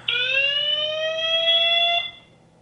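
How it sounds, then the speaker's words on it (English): Conico wireless IP camera alarm siren sounds one piercing, steady electronic tone for about two seconds, close and alone, then cuts off. "It's an alarm."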